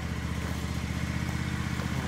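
A tractor engine runs on a rural Canadian property, chugging with a steady, rapid low-pitched pulse that stays close and even throughout, with no voices.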